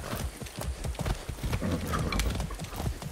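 Horse hooves clip-clop in a rapid, steady rhythm in the video game Far Cry 6, loud and close, with no talk over them.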